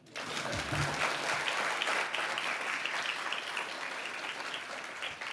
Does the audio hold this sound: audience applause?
yes